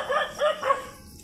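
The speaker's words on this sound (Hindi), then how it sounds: "पता नहीं क्या दिख गया वो लोग इतना ज़्यादा भौंक रहे हैं।" Dogs bark three times in quick succession in a village setting, the barks sharp and evenly spaced at a moderate distance, then fade into quiet.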